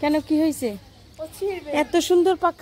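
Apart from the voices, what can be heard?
None of the usual background noises is heard.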